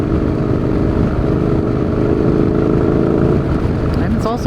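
Steady engine drone from a group of motorcycles riding ahead on a winding road, heard from the back of the pack, a continuous loud rumble mixed with wind buffeting on the microphone.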